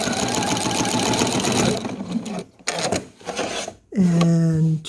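Sewing machine stitching along an already-sewn seam line through a scrappy quilt, a steady loud mechanical whirr running for a couple of seconds, stopping, then a few short bursts before a brief clear tonal whine at the end.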